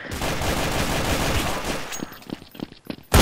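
Rapid gunfire from a Desert Eagle pistol in Counter-Strike: Source, a dense continuous burst of shots that breaks into a few separate, spaced cracks and ends with one loud blast.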